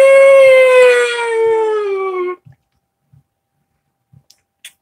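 A person imitates a howl: one loud sustained vocal wail, near the microphone, that glides slowly downward for about two seconds and then stops, followed by a few faint clicks and small noises.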